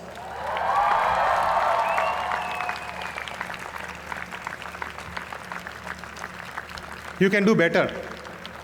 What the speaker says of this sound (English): give them the loudest cheer and the longest round of applause